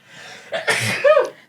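A single sharp human sneeze, close and fairly loud, preceded by a brief inhaled breath and ending in a short voiced tail.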